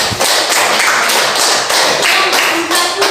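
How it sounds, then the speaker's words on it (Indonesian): A classroom of students claps for a group of classmates, a dense, loud burst of hand claps sustained throughout with no talking over it. "Kita tepuk tangan dulu untuk kelompok 3."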